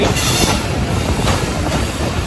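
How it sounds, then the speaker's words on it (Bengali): Train passing at a railway crossing, a loud continuous roar of wheels and carriages with faint clickety-clack and wheel squeal, close and steady with no talk. "এই ট্রেনটা লেটে আসছিল"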